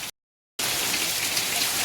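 Rain pours steadily on a farm, with wind. A dense, loud hiss of drops hitting surfaces fills the whole clip after a brief silent gap near the start.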